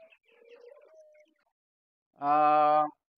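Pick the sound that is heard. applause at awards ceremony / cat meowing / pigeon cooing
pigeon cooing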